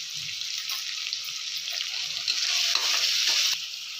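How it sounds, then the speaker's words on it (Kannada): Tomatoes fry in hot oil in a pan while being stirred and mixed with salt, for a fenugreek-leaf pulao. A close, steady sizzle runs throughout, broken by soft scraping stirs and swelling slightly near the end. "ಟೊಮೊಟೊ ಸೇರಿಸ್ಕೊತಾ ಇದ್ದೀನಿ, ಮಿಕ್ಸ್ ಮಾಡ್ಕೊತಾ ಇದ್ದೀನಿ, ಉಪ್ಪು ಸೇರಿಸ್ಕೊತಾ ಇದ್ದೀನಿ."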